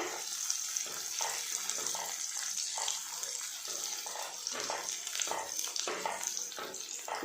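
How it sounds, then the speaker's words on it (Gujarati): Mixed vegetables for veg hakka noodles sautéing in a pan over a full gas flame: a continuous, hissing sizzle with soft scraping from stirring, fairly quiet and steady throughout. "તમારે ફૂલ ગેસ ઉપર સાતળવાના છે"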